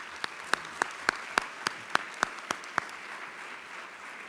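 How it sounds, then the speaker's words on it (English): Audience at a childhood cancer summit claps in a brief, sparse burst of about a dozen distinct claps, fairly faint over room tone and tapering off. "So a round of applause for Danielle."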